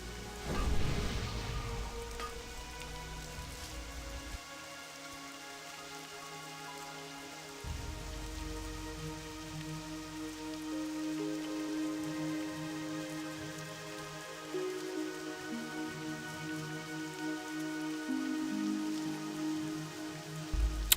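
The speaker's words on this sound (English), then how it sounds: "The rain is coming down very aggressively today." Steady, heavy rain in World of Warcraft Classic patters on a surface alongside a sustained tonal music bed, with a low rumble near the start.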